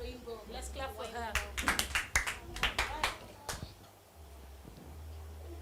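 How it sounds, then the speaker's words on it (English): Audience members clap for a girl during a Bible trivia stage play, a loose scatter of individual hand claps building over a couple of seconds then stopping, with voices talking underneath. "Let's clap for her."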